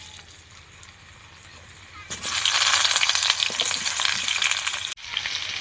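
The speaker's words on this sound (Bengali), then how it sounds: "কড়াইয়ে তেল দিয়ে দিয়েছি, গরম হয়ে গিয়েছে, আলু ভেজে নেবো।" Potatoes dropped into hot oil in a wok, a loud sizzle that surges up suddenly and stays strong with stirring, briefly cut off near the end.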